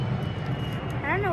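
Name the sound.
airplane flying overhead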